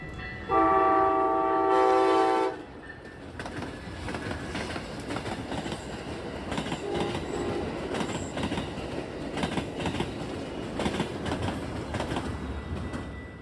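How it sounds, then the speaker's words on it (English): A northbound Amtrak Hiawatha passenger train sounds a loud, sustained horn blast, then rolls past with a steady rumble and wheel clatter that continue for the rest of the stretch. "Not long after, 329, the northbound Hiawatha came through."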